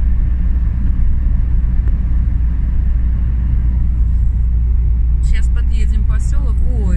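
A car drives along a rural road past cornfields and a farm, a steady low rumble of engine and tyres throughout, with faint chirping sounds appearing near the end.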